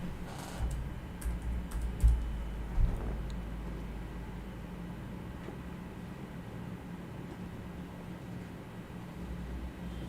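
Someone types on a computer keyboard, with a few quick clusters of clicks early on, then mostly quiet steady background hum.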